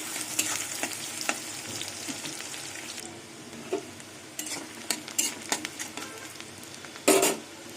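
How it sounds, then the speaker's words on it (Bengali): Chopped onion frying in oil, a continuous sizzle with stirring scrapes, fading somewhat midway, then a cluster of utensil knocks and a sharp metallic clatter near the end. "পেঁয়াজটা একটু ভেজে নেবো লাল লাল করে"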